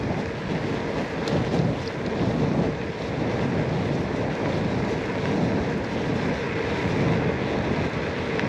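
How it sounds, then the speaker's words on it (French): Strong wind buffets the microphone on a gravel riverside path along the Oise at Saint-Ouen-l'Aumône, a loud, steady, rumbling roar with no voices. "C'est du vent, hein, c'est cool là."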